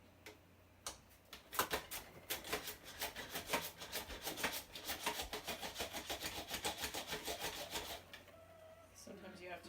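Carrot slices on an OXO mandoline in a rapid run of crisp, rhythmic rasping strokes, close and clear, ending with a short pause and a few softer sounds.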